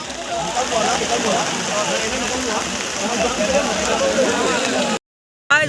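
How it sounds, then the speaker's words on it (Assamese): Heavy rain pours down on a historic boat race on the Kalahi river during Durga immersion, a dense, steady hiss that drops out briefly near the end before returning. "যথেষ্ট জোৰকৈ আহিছে বৰষুণ"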